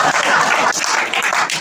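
An audience at a devotional poetry gathering in Tarana, Ujjain claps in a dense, continuous burst of applause that stays loud and close for a short stretch.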